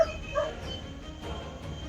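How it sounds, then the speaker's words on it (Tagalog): A dog barks faintly a couple of times in the background, brief and distant yips over a low room hum, with no talking. "May aso."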